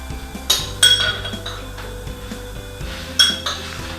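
Bruschetta topping of chopped tomato, basil and onions being mixed in a bowl, giving a few sharp clinks and scrapes of a utensil against the dish over a quiet background, with no talking.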